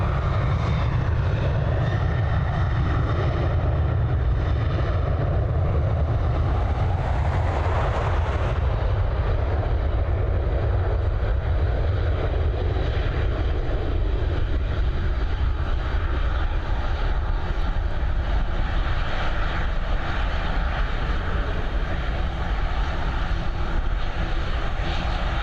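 Airliner taking off from Dublin Airport, a loud sustained engine roar that swells and shifts in tone partway through, then holds steady as a broad rumble with no voices.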